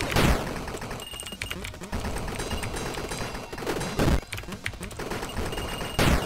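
Bullets fired in the video game Cavern Kings, a dense run of rapid gunshots and impacts over a busy game soundtrack, with louder bursts near the start and end.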